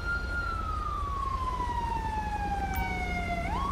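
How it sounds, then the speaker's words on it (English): An ambulance siren in the video game GTA 5 on a highway, a loud wailing tone sliding slowly downward over steady traffic rumble, then sweeping sharply back up at the end. "Ambulance, assistance needed on Sonora Freeway."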